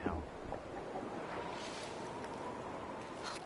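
Wind blows through a snowy wilderness in the survival video game The Long Dark, a continuous faint, hissing rush with gentle swells and no distinct events.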